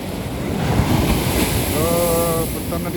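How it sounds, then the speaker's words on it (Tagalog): Strong ocean waves break on a beach in a continuous loud wash, mixed with heavy wind buffeting on the microphone and a brief tonal whine partway through. "lakas ng alon."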